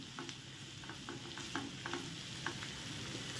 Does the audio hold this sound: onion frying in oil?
yes